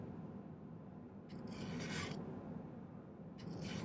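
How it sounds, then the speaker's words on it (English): A hand file rasps across a silver ring at its solder joint, close and quiet, in two short bursts of scraping strokes over a low background hum. "I might file this a little bit flat right there so it doesn't roll"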